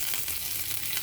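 Curry leaves hit hot ghee that already holds popped mustard seeds, giving a steady, close, dense sizzle with no voices.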